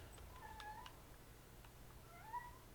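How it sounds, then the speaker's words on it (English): Kitten meowing and crying in the video game Hell is Us, a few thin, plaintive mews spaced across a quiet, low-level background. "Hi, kitten. Why are you crying?"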